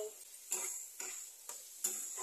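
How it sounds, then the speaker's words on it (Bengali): A spice mixture with turmeric powder and salt frying in a pan, a quiet sizzle broken by four regular scraping stirs about half a second apart. "মশলাটা ভাজা করে নেব।"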